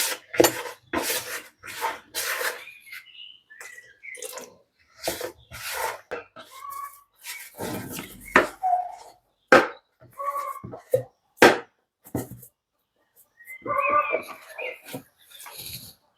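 A bio insecticide bait mixture for mole crickets being poured slowly and stirred by hand into a dough-like cake, with irregular close bursts of rubbing, scraping and squishing separated by short pauses.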